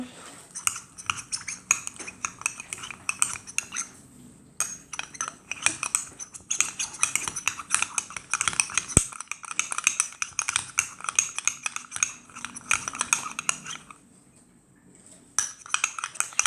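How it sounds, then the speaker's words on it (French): A slime mixture being stirred in a bowl, giving a busy stream of clinking, scraping utensil sounds that runs steadily with a brief pause near the end. "Et je mélange."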